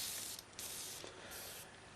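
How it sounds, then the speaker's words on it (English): A Badger Sotar 20/20 airbrush sprays out the last of its paint in a steady, airy hiss that pulses a few times as the trigger is worked, close and continuous, with no talking. "Spray the remainder of the paint out."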